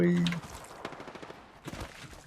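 Apex Legends gunfire: a burst of rapid shots at the start, then scattered shots over a low rumble, with an excited voice talking over the shooting.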